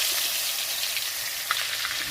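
Garlic fries in hot oil with black cumin, a steady broadband sizzle running close and moderately loud for about two seconds, with a few small pops near the end and no talk.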